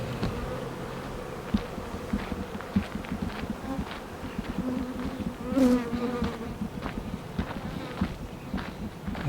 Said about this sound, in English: There's a lot buzzing around,